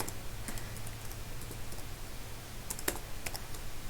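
Typing on a computer keyboard, scattered light key clicks in short bursts over a steady low hum, close and quiet with no talk.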